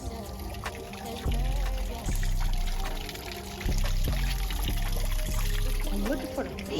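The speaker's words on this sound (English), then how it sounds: "Waterfall right here." Water flowing and pouring at a small waterfall along a nature walk path with flowers, a steady splashing wash with louder surges, heard close, with some background noise mixed in.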